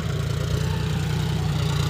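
John Deere 5105 40 hp tractor pulling a tiller five inches deep through wet field soil, a steady low diesel engine drone with a throbbing pulse, close and continuous with no talk.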